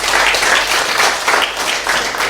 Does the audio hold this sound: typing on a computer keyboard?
no